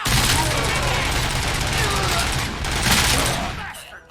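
Dense gunfire in the RoboCop: Rogue City shootout: sustained, overlapping bursts crackle loudly and continuously before easing off near the end, with voices heard amid the shooting.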